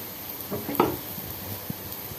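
Papaya frying in a pan for a home dinner: a soft, quiet sizzle with a few light scraping stir sounds and a brief clatter near the start, close up and without talk.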